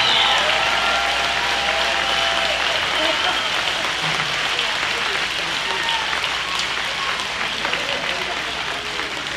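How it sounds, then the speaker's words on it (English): A crowd at a People's Convoy rally gives a big round of applause for the convoy's workers, sustained dense clapping that holds loud and even for several seconds, with some voices mixed in. "I want to give a big round of applause for those hard workers behind that have done this"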